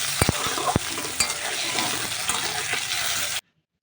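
Cauliflower fries in a pan with a steady, bright sizzle that runs for about three seconds, with a few sharp clicks and knocks early on, then cuts off abruptly.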